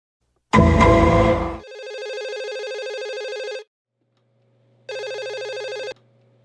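A telephone rings in clear electronic bursts, loud and close, two long rings separated by a pause, with a brief louder burst just before them and no one speaking.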